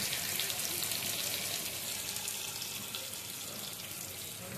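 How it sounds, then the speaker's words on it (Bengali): Water goes into a pan of crab curry with new potatoes frying in hot oil, giving a steady, close hiss and sizzle that holds evenly without voices. "এবার আমি জল দিয়ে দেবো।"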